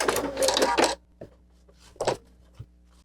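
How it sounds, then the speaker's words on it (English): A sewing machine's automatic thread cutter runs, a short mechanical whirring burst followed by a couple of quieter clicks and clunks as the mechanism finishes. "If you have a sewing machine that cuts the thread, which this machine does, that's this button."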